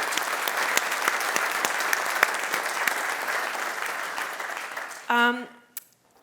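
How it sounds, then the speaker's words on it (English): Conference audience at a logistics panel during MWC 2022 applauding the panelists, sustained dense clapping that gradually fades out, followed by a brief burst of voices near the end. "All right, then a big round of applause for all your contributions so far."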